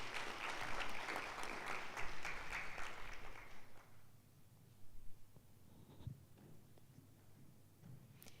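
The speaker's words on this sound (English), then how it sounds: "It's just 12 noon and your clappings are so brief." Audience applause at a National Cyber Security Awareness Month 2022 event, a dense burst of clapping for about four seconds that quickly dies away to scattered claps and room quiet.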